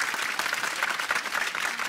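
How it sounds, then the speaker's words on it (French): Studio audience at a French television talk show applauding steadily, a dense even wash of many hands clapping that carries on without a break, fairly loud with no voices over it. "Ah ouais, on peut l'applaudir, hein."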